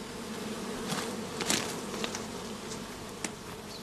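Honey bees in a shook swarm box covered with wire gauze buzz continuously and densely, a close, loud hum with occasional sharper passes of single bees.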